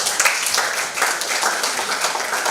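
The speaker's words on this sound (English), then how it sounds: "So we should give our panelists another resounding applause." Audience applause for conference panelists, a steady wash of many hands clapping throughout, moderately loud and without speech.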